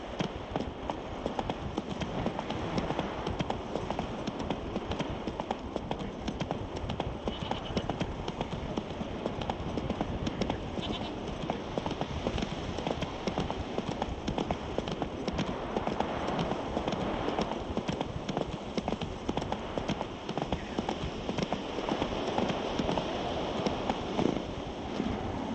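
Horse hooves gallop steadily in The Witcher 3, a continuous, driving clip-clop rhythm at full loudness for the whole stretch, with a faint wash of ambient game sound beneath.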